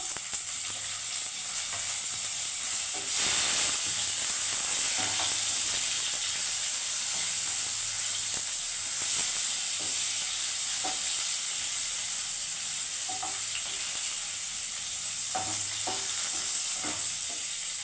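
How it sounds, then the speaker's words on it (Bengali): Onion and tomato fry in a pan, a continuous sizzling hiss broken by occasional stirring clicks and scrapes from a utensil, fairly close and steady with no voices. "এবার আমি পেঁয়াজটা টমাটোটা ভেজে দিচ্ছি।"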